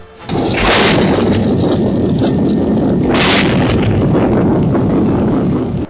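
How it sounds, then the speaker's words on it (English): Explosions in a puppet film trailer roar as heavy, sustained rumbling booms with a couple of sharp cracking bursts, loud and filling the whole stretch with no talk. "Or explosions."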